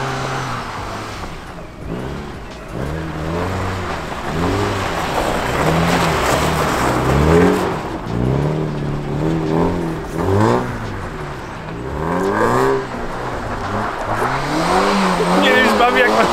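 A car's engine revs hard at full throttle on ice during drifting practice, with repeated surging rises and drops in pitch, loud and close, while people talk over it.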